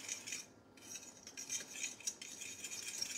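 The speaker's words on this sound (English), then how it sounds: "Okay, so let's mix this up" Cake batter chaffle ingredients being mixed in a bowl, heard as quiet, rapid clinking and scraping of a utensil against the bowl, close but faint, with no talking.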